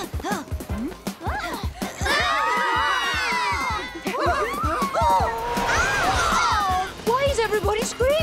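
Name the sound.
crowd screaming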